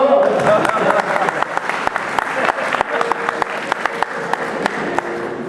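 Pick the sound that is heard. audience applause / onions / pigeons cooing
audience applause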